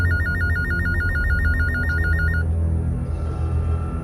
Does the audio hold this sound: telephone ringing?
yes